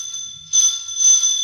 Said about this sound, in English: Hey, the doorbell's ringing.